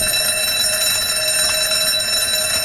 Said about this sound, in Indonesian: Kang Ganja pun menghidupkan alarm kebakaran agar damkar mendengarnya kan